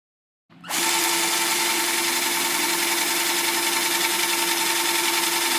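A power drill drives Kreg pocket screws into wood for a shoe cubby, starting abruptly after a brief pause and then whirring loudly and steadily, close up, with no talking.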